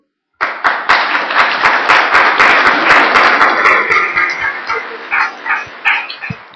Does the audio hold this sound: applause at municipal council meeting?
yes